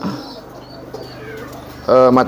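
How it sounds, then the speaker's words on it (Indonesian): A homing pigeon coos close by, a soft low burble under light background murmur that swells into a louder, clearer call near the end. "Nah, ini merpati posnya, teman-teman."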